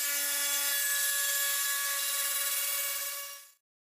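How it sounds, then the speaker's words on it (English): Steady, loud whining routing cut into a thin wooden guitar soundboard, a tool shaving a shallow cavity in the spruce-thin top. The sound runs continuously, alone, then stops abruptly. "Cutting into the soundboard is always a bit nerve-wracking."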